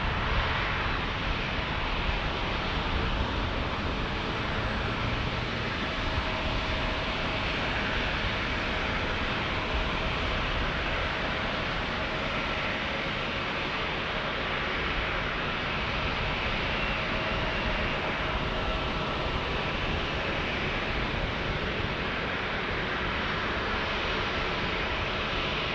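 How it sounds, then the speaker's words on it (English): A United Airlines Boeing 737 MAX taking off from San Diego airport, a steady broadband jet roar that holds evenly loud for the whole stretch with no break or voices. "Max taking off, United Airlines."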